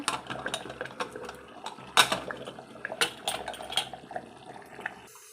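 A metal pressure cooker lid is handled and closed over boiling vegetable pulao, giving irregular close clinks and clatters of metal against metal, with a few louder knocks amid faint bubbling.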